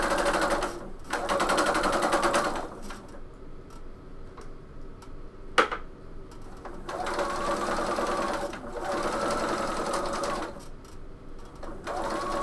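A sewing machine stitches piping onto a bomber jacket, running in steady loud stretches and pausing briefly twice, with a sharp click midway.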